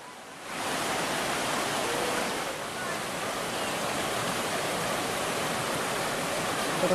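River water rushing steadily with a broad, even hiss, loud and close, starting abruptly and holding constant with no pauses or distinct voices.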